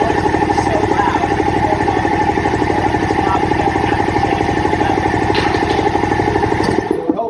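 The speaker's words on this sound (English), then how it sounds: "Now you'll notice that when I turn the compressor on, it's so loud." Very old air compressor with a rebuilt head runs loudly close by, a rapid heavy chugging clatter pounding steadily throughout before cutting off at the end.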